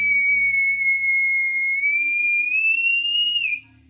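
A handmade sheet-metal shepherd's survival whistle blown hard gives one loud, steady, piercing shrill tone that rises slightly in pitch and holds for over three seconds before cutting off abruptly.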